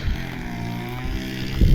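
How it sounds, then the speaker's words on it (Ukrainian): A grass mower drones steadily in the background some distance away in a neighbouring garden, with wind noise and a thump at the end. "Сусід косить."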